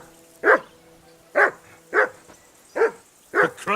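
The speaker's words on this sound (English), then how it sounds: "Call off that damn dog before he wolfs down the last of our mates." A dog barks five times in a steady rhythm, each bark loud and close with clear pauses between, no speech.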